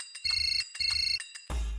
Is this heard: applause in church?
no